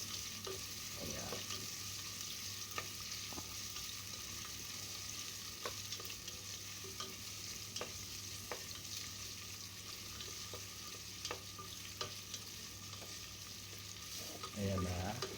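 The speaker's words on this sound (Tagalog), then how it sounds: "Andiyan na ang luya. Haluin ulit natin." Ginger fries in a pan with a soft, steady sizzle while a spoon stirs it, giving regular light taps and scrapes against the pan. A brief louder clatter comes near the end.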